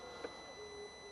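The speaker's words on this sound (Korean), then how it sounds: "뭔가 정기적인 신호가 계속 발생되는 그런 소음이 들리시죠?" A parked hybrid car with its ignition on gives off a faint, steady electronic tone, with a thin sustained whine and a single soft blip in a quiet interior.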